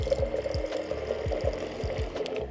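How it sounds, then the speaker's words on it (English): A Liquor Stick 2.0 electric drink pump runs with a steady motor hum while liquid flows, accompanied by a rapid series of repeating gurgling pulses close by. "All you gotta do is press and hold for 1 second, pour yourself a drink."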